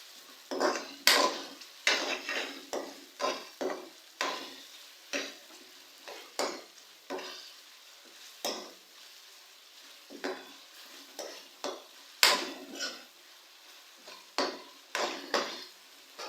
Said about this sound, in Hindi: अब हम मसाले को अच्छी तरह से भूनेंगे।